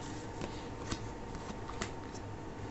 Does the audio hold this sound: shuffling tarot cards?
yes